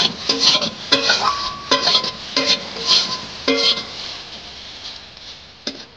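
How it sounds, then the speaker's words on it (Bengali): Pointed gourd frying in a pan being stirred, with repeated scraping and clinking of a utensil against the pan in short bursts, close and fairly loud, a soft sizzle beneath. "তাই আমি আর একটু জ্বালন দিয়ে আর একটু পটল ভাজাটা নেড়ে দেবো,"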